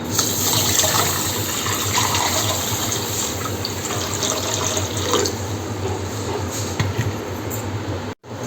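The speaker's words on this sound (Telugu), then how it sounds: "సో తర్వాత వాటర్ అయితే పోసుకోవాలి" Water pours steadily into a bowl holding sugar, a continuous gushing splash that runs for several seconds before cutting off abruptly near the end.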